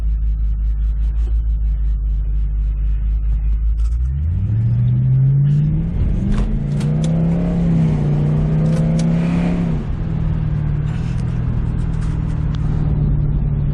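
A 2006 Ford Mustang engine rumbles loudly at idle, then revs up and climbs through its range as it passes close by, holding a strong sustained roar before easing to a steady drone.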